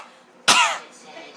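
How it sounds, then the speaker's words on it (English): A single sharp, close cough bursts out abruptly and trails off with a breathy rasp, standing alone against quiet background. "That's why she coughed like this"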